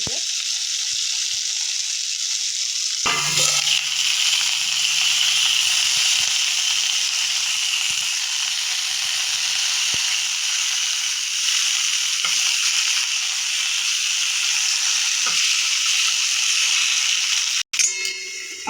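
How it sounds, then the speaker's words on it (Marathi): Stuffed tomatoes sizzle and fry steadily in a pan, a loud continuous crackle with occasional stirring rattles, close up and without talk. "आपले टोमॅटो एकीकडे शिजत आहेत"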